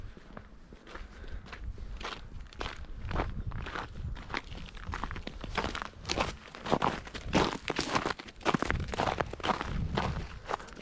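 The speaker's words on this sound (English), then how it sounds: "That's that crazy winter sound, folks. The old icy footsteps." Steady footsteps crunch over icy ground outdoors after a storm, each step crisp and close, keeping a regular walking rhythm that grows slightly louder and more insistent over time.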